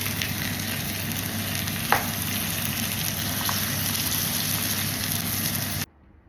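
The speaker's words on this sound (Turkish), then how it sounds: "Soğan ve biberimizi kavurduktan sonra kıymamızı da ekledik arkadaşlar. 300 gram kadar kıyma koyuyorum. İyicene kavuralım." Minced meat, about 300 grams, sizzling and frying with onion and pepper, a steady loud crackling hiss throughout with a brief stir scrape near two seconds, stopping abruptly near the end.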